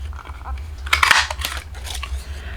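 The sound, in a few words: cutting a strip of black paper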